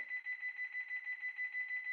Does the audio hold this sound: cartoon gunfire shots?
no